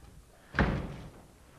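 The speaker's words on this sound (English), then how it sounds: "he slams the door" A door slams shut with one loud, close thud that rings briefly and dies away, with no voices over it.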